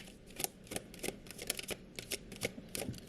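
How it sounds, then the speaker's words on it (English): Tarot cards being shuffled by hand in a run of quick, crisp riffling bursts, close and fairly quiet, with no talking. "we will give you 3 more shuffles"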